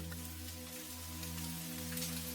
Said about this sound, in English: Even now, the sound of the rain is growing faint.